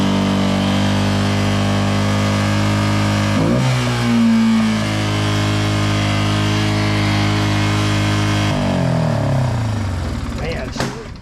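Four-wheeler ATV engine freshly fitted with a new carburetor, smoking and refusing to shut off: a loud, close, rough running engine that holds steady, then swells and dips in pitch as it revs, fading slightly at the end.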